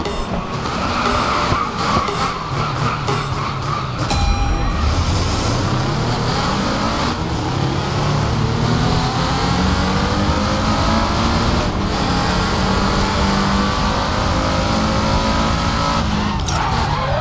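Race car engines in the Racing Master video game roar continuously and loudly, with revving, gear shifts and rising engine pitch as the car accelerates, plus occasional tire squeal.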